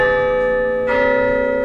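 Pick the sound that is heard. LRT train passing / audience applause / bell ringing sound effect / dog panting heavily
bell ringing sound effect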